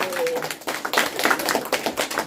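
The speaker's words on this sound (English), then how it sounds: "then we must clap" Audience clapping in a lecture hall during a Bhagavad Gita talk, a short burst of many hands applauding at moderate loudness, fairly close, lasting a couple of seconds.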